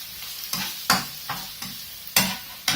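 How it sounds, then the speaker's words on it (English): Food is stirred round and round in a frying pan with soy sauce. About seven scraping strokes come at an uneven rhythm over a low continuous sizzle. "all you just want to do is just keep that stirring round and round"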